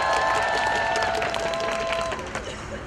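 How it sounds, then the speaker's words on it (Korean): An outdoor crowd at a citizens' rally in Daejeon applauds an incoming speaker. The clapping and crowd noise are thick and continuous, with a thin steady whistling tone over it early on, and then taper off slightly toward the end. "큰 박수 부탁드립니다"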